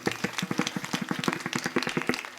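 An audience at a Warkari kirtan claps briskly in a dense, uneven burst of many hands, close and lively for a couple of seconds with no talking.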